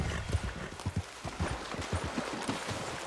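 Horse hooves clip-clop at a steady walking rhythm in Red Dead Redemption 2, close and moderately loud, with a brief whinny-like tone and no talk over them.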